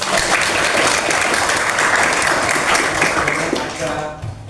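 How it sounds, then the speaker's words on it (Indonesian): Applause from a classroom of students, a loud, dense burst of clapping that fills the clip steadily before tapering off near the end. "Tepuk tangan dulu untuk"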